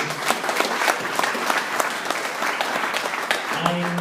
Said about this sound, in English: Clap it up for Coach Salomon.